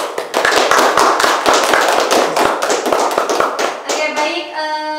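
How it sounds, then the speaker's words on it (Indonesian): A talk show audience gives a loud, close burst of clapping for three guest speakers, dense hand claps fading at the end as a sustained musical tone enters. "beri tepuk tangan yang meriah untuk ketiga narasumber kita pada malam hari ini"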